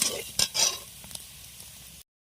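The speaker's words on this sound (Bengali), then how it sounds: "গরম হয়ে গেছে, এবার আমি পেঁয়াজটা ভেজে নিচ্ছি" Onions hit hot oil in a pan with a bright sizzle, a couple of quick stirring scrapes up front, then the frying settles into a softer steady crackle before cutting off; no voices.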